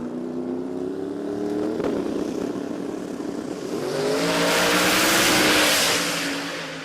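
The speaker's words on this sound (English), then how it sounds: "World-class OG 275 style car." An OG 275-style radial drag racing car makes a run at Willowbank Raceway during the Kenda Tires Radial Riot, its engine roaring and rising in pitch, loud and building to a peak before easing slightly.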